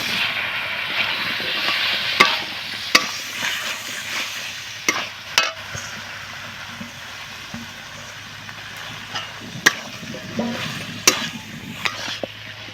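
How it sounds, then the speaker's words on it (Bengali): Small homegrown potatoes are tipped into a spice masala frying in a pan. A low steady sizzle runs throughout, with sharp knocks and scrapes of a spoon against the pan at irregular intervals as they are stirred. "এগুলোকে আমি এই কষা মশলার মধ্যে ঢেলে দেব"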